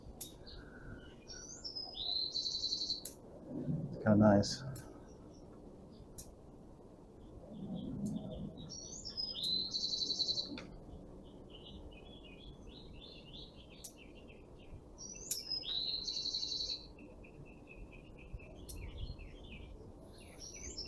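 Songbirds chirp outdoors during bonsai work on a dwarf jade tree, bright repeated phrases recurring every few seconds at moderate distance, with a brief spoken remark and some handling noise beneath.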